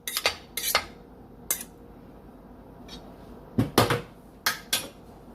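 A spoon stirs honey mustard chicken with apples in a slow cooker, giving a few scattered scraping clinks against the pot, some in quick pairs and clusters, with quiet gaps between them.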